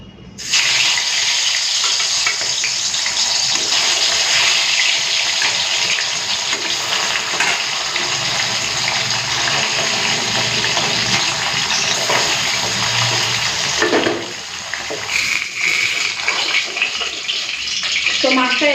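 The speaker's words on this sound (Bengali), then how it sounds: "তো তেল গরম হয়ে গেছে এখন আমি মাছটাকে ভেজে নেবো" Fish frying in hot oil makes a loud, steady, close sizzling hiss that runs on without a break, dipping only briefly once before carrying on.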